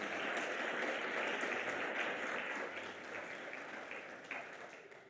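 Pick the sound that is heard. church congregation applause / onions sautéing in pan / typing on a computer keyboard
church congregation applause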